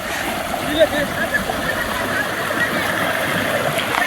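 A flooded village stream rushes steadily as people wade through the high water, making continuous broadband gushing and splashing close by, with occasional louder splashes.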